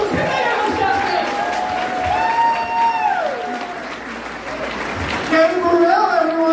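A comedy club audience at an improv show applauds in a sustained burst of clapping with some cheers, while a voice talks over the crowd and the applause swells again near the end.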